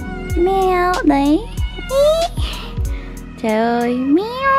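A cat meows repeatedly at close range, several drawn-out rising and falling cries with short gaps, loud and clear, recorded at a Tay homestay in Dong Van, Ha Giang.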